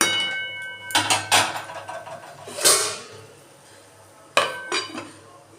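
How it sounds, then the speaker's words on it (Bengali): A metal lid clanks onto a pan of cooking greens, with a few sharp metallic knocks and clinks spaced over several seconds against a quiet kitchen background. "সব কিছু মিশিয়ে নিয়ে একটু ঢাকা দিয়ে দেবো"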